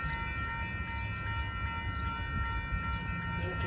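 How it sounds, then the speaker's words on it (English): A Metra commuter train on the Union Pacific Northwest line, led by an EMD-style locomotive, pulls into Crystal Lake station with a steady rumble and a sustained multi-tone horn chord throughout. "UP Northwest main line train number 713 to Crystal Lake is now arriving"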